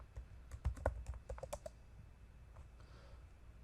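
Quiet, close keystrokes on a computer keyboard as a password is typed, a quick irregular burst of clicks followed by a near-silent pause.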